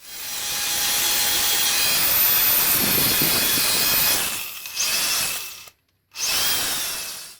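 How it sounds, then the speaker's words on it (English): A power drill fitted with a buffing pad polishes a car headlight lens, a steady high whine running continuously, then briefly dipping and cutting out before starting again. "Lightly buff polish all over the headlight lens in a side-to-side action"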